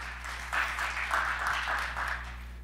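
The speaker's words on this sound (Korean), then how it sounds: "역시 나오실 때 박수로 환영해 주시면 좋겠습니다." Forum audience in a hall applauding a speaker as she comes forward, a soft, even wash of clapping with a low steady hum beneath it.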